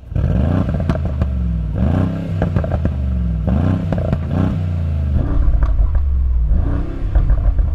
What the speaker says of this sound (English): It's the uprated exhaust. Have a listen.